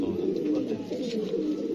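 Pigeons cooing softly and continuously, a low murmuring flock heard close by with no talking.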